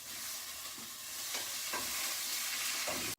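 Meat sears in a hot pan with a steady, bright sizzle up close, broken by a few soft scrapes and clinks as tongs flip the piece.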